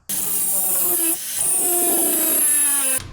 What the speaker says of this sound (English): now that we got the bolt head cut off